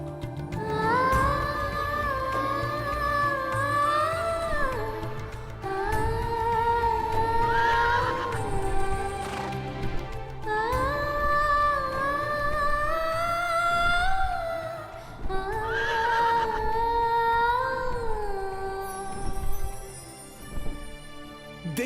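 A horse neighs in repeated long, whinnying calls over about twenty seconds, loud and prominent, with some background sound beneath.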